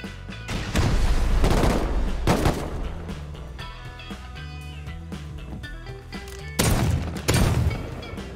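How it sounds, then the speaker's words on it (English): Gunfire rains on a player's base in the survival game Rust, with dense, loud volleys of many overlapping shots, a lull of scattered sporadic rounds, then heavy bursts returning near the end. "Oh, why are they shooting at my base?"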